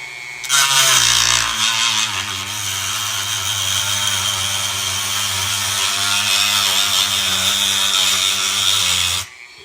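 A Dremel with a small cutting wheel cuts into a plastic LED switchback tow mirror housing, a loud, close, high-pitched whine that spins up and holds steady for about nine seconds before stopping abruptly.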